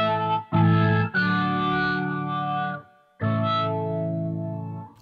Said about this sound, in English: Just the organ tones to have for comping in a band.